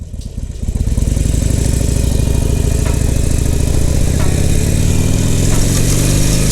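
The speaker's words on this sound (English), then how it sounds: "pull the clutch, roll off of the throttle, shift up, and then start to roll back on the throttle as we let go of the clutch" Motorcycle engine starting from quiet and then running loud and close, a steady throbbing drone whose pitch climbs gradually as the throttle is rolled on and gears are shifted.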